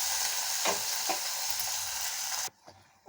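Steady sizzle of onion and garlic sautéing in a hot pan with a couple of spatula scrapes, then the sizzle suddenly drops away near the end.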